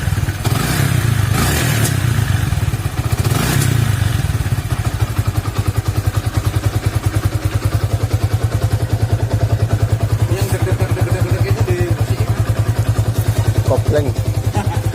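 A Yamaha Vixion motorcycle engine idles steadily while warming up, a loud close low chugging drone with an even rapid pulse, some clatter and brief scraping sounds on top.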